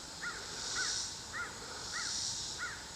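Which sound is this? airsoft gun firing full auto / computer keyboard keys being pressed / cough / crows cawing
crows cawing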